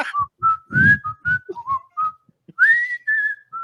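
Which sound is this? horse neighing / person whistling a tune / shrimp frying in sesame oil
person whistling a tune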